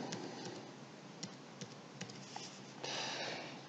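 Typing on a computer keyboard, a handful of light, irregular key clicks, faint and fairly close, over a low background hiss with no voices.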